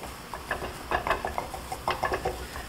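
Roux for beef stew browns in a pot while being stirred, a light sizzle under soft repeated scraping and clinking strokes in an uneven rhythm, close with no voices.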